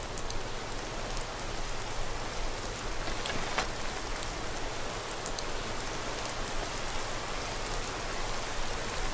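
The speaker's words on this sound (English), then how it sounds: "So it went from pretty heavy snow shower to pretty heavy rain" Heavy rain falls steadily in Skyrim Special Edition, a dense, even hiss of drops on surfaces with occasional sharper patters, continuous throughout with no voices.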